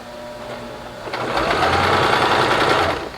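A sewing machine stitches a round cushion, starting with a soft hum and then breaking into a loud, steady run of rapid needle clatter that fills the last two seconds.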